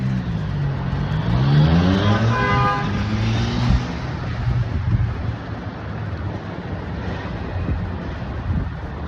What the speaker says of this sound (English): Always a lot of traffic.